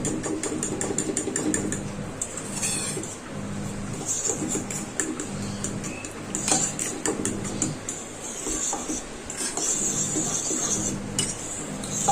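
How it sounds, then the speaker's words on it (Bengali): Eggs beaten with sugar and a pinch of salt for a fluffy sweet omelette, a steady run of quick metallic whisk clinks against the bowl with a faint engine-like hum underneath, no talk. "আমি আবার ভালো করে একটু ফেটিয়ে নেব"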